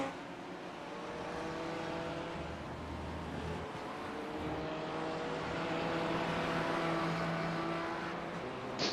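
GT3 race cars running in the iRacing sim during a 12-hour endurance race at Barcelona, heard as a steady engine drone whose tonal pitch climbs and falls through gear changes, moderately loud and continuous, with no talking.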